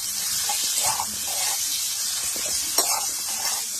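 Ginger paste hitting hot oil in a pan while cooking a bean and lentil-dumpling dish sets off a loud, steady sizzle and hiss that holds throughout, with a few brief stirring scrapes.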